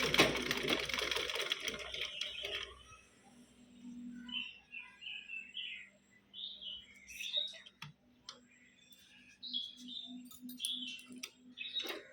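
A sewing machine stitches a princess-cut boat-neck blouse, a fast close whirring run of needle strokes for about two seconds before stopping, leaving birds chirping faintly in the quiet background.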